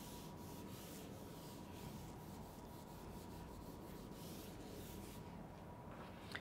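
Continuous dry rubbing as one side of a board is erased, a steady close scratchy friction that runs unbroken for several seconds at low level before stopping.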